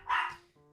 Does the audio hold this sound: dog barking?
yes